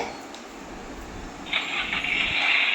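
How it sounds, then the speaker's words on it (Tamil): A low rumble shifts into a rising electronic engine whine that starts up midway and holds, a Bluetooth toy car's sound effect, fairly loud and close. "ரியல் இன்ஜின் கார் ஒர்க் ஆகிற மாதிரியே இருக்கு"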